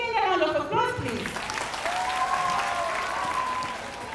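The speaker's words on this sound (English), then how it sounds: "Can we give again a round of applause, please?" A crowd's applause rolls through a school event hall, steady clapping running under a speaking voice that talks over the start and again partway through.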